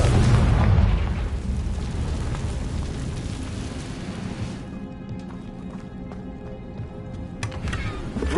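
A Confringo blasting spell from Hogwarts Legacy erupts in a loud, dense explosion that roars at first and then settles into a long rumbling tail with scattered crackles.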